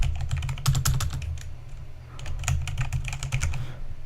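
Continuous typing on a computer keyboard comes through a desk-mounted microphone as fast clicking strokes over a boomy low thump from the desk, with a brief lull midway before the clicking resumes.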